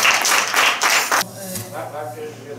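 A church congregation claps together in a burst of applause for about a second, then it stops abruptly and a voice speaks over quiet room tone.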